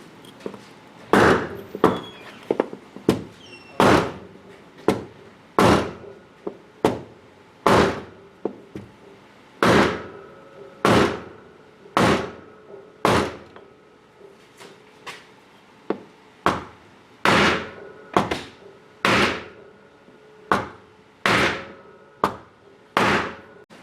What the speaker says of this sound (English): We're gonna take a piece of wood and a little mini sledge and clearance that